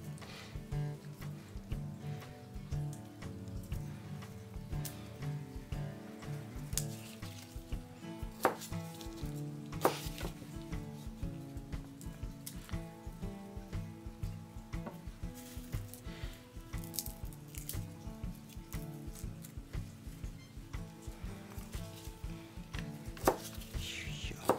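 A knife chops rakkyo, small Japanese shallots, on a board in steady, rapid strikes throughout, close and fairly soft, with faint sizzling in the background and no voices.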